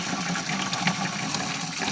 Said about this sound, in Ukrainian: Поки вода набирається у поливалку